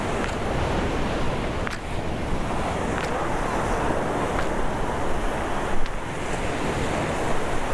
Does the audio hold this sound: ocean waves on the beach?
yes